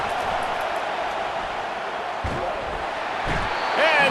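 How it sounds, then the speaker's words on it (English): A stadium crowd in a college football video game, Georgia at Auburn, roars steadily on third down as the noise rises, with a few dull thumps and a brief high whistle near the end. "Decibels rising as the crowd gets behind this defense on third down."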